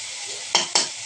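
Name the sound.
stirring spices and pointed gourd curry frying in pan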